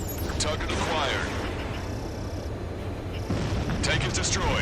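A tank explosion in the Ace Combat 7 video game sits amid dense roaring battle noise and gunfire-like cracks, a fresh surge of rumble arriving near the end, with radio voices talking over it.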